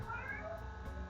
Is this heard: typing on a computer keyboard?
no